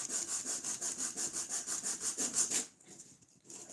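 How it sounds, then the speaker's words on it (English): Wood being hand sanded with sandpaper glued around a domino from a domino dowel jointer: rapid, even back-and-forth rasping strokes, close and steady, then stopping abruptly into near quiet, with no talking. "I'm just using one of the dominoes from my domino dowler with a piece of sandpaper glued around it"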